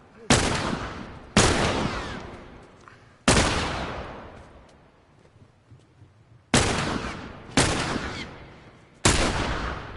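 Loud, close gunshots from The Last of Us video game, six sharp blasts at irregular intervals, each followed by a rumbling decay with no talking in between.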